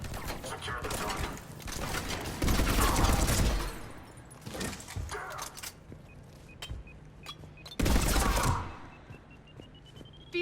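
Heavy bursts of gunfire in the Mass Effect 3 battle on Omega, loud crackling volleys in two main waves with scattered single shots and mechanical clatter between them.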